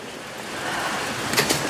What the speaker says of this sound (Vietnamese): Đó, trời mưa.